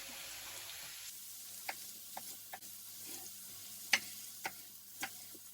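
Pork cooks in a pan with a soft, steady sizzle, punctuated by several sharp clicks and taps of a utensil stirring the meat at irregular intervals.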